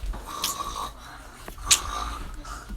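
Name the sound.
girl imitating snoring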